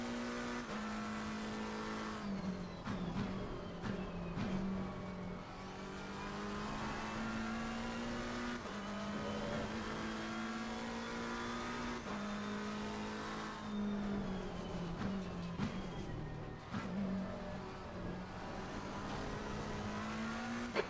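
Race car engine on the final lap in the ACC GT World racing video game, a loud continuous drone climbing and dropping through gear changes, with brief tire squeals and clicks, no talk.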